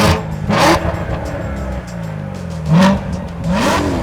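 A sports car engine revs in sharp bursts, rising and falling twice with a throaty bark, close and loud, with no talking.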